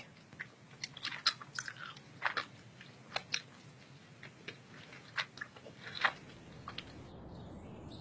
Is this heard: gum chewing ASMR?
yes